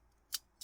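A knife slices through juicy cooked steak for fajitas, cutting across the grain: two short, crisp cutting sounds a fraction of a second apart, close and fairly quiet.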